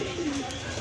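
A pigeon kept among pairs of fancy breeds for sale gives one short, close coo.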